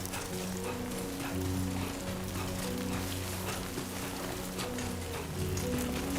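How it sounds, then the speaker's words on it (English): Steady rain patters across the ground in the video game Death Stranding 2, a dense, even hiss with scattered drops that continues unbroken throughout. "Oh, like regular rain."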